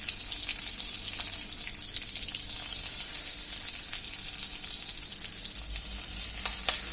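Dried fish patties (chapa shutki bora) with leaves fry gently in oil, giving a steady, close sizzle with crackling pops throughout and a few sharper spits near the end.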